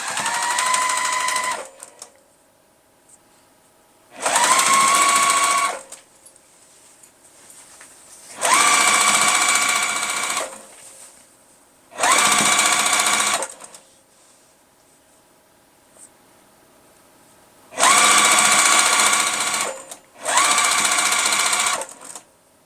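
A sewing machine runs in six separate bursts of steady whirring as quilt pieces are stitched together, each burst lasting a few seconds with quiet pauses between, close and clear.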